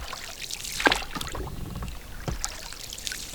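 A paddle strokes through calm lake water from a small boat, making soft, close dips and swishes with light splashes and faint wind.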